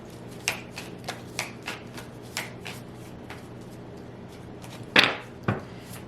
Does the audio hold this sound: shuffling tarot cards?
yes